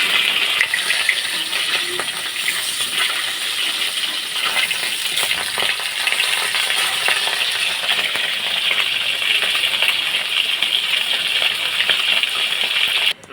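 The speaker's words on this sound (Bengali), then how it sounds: "মাছগুলো এক পিঠ ভাজা হয়ে গেছে," Fish fry in hot oil in a pan, a loud, steady, close sizzle that carries on without a break the whole time.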